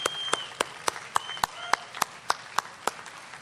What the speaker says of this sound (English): Please give a big round of applause for our county prosecutor